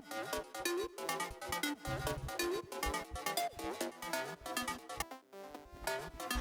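A quiet, stereo-spread texture pad pattern from Logic's Alchemy plugin for uplifting trance, playing as a dense, pulsing wash of sustained tones with rhythmic chopped movement, continuous and alone.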